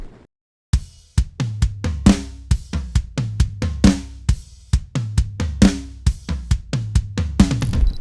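Mixed drum toms processed through STL Tones Controlhub, with boxy mids cut and the top end lifted slightly, play a steady run of punchy hits with short decays after a brief silent start, close and dry.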